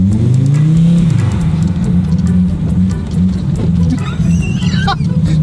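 A car engine revving as the driver gives gas, a loud close low growl that rises, holds and surges with throttle, with voices briefly heard over it.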